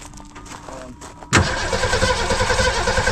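A 1962 Ford Falcon barn find cranks over. Quiet mechanical fiddling and faint voices come first, then a sudden loud burst as the engine turns, followed by a steady, rough running drone close by.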